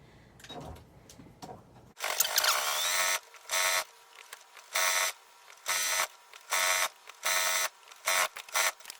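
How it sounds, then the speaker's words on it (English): A sewing machine top stitches a fabric bubble basket near the handle, running in loud bursts of about a second separated by short pauses, after a quieter stretch of handling at the start. "I'm going to start top stitching it right here at the top where the handle is."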